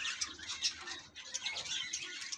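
Pet finches, including zebra, white, Isabel and Bengalese finches, kept in cages in a home aviary, chirp in quick, overlapping high tweets close by, with faint wing flutters among them.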